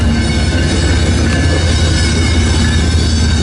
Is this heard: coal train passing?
yes